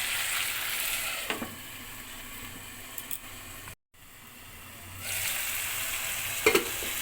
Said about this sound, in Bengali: ঢেকে দিয়ে সুন্দর মতো কষাবো